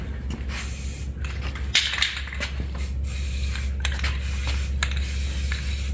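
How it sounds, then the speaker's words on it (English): Aerosol spray paint in Cummins tan applied to engine parts of a Big Cam Cummins diesel, a loud, close, continuous hiss in short repeated bursts with brief pauses, no talking. "I want to paint it so if there's any leaks, it'll be far easier to see"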